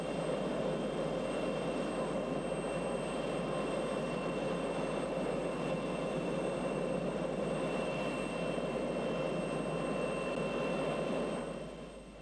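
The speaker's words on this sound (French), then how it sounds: "À 15 h, l'hélicoptère de Leinhauser se pose." A helicopter setting down, a steady loud whine and engine roar holding throughout before easing off at the very end, with no talk.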